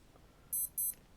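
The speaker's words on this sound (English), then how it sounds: "Sorry for the beeping, I forgot to turn the chimes off on some of my watches." Two short bursts of electronic beeping from a wristwatch chime, with a faint third chirp trailing off, heard against quiet room tone during work on a 1966 Timex Marlin.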